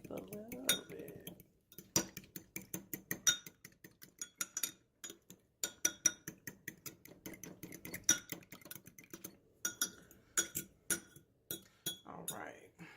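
A fork or whisk beats food in a bowl with rapid, rhythmic clinking taps of metal on dish, close and moderately quiet, coming in steady bursts with short pauses, while a person talks.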